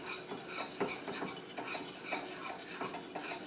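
A utensil scrapes and clinks steadily in a pan as butter melts for bananas, constant stirring with faint sizzling beneath, close and unbroken with no talk.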